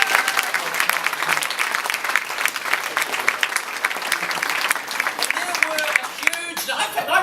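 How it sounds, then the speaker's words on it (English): Audience applause at a New Zealand museum awards ceremony, sustained crowded clapping from a large room that carries on steadily, with a voice faintly heard near the end. "let's have a round of applause for everybody"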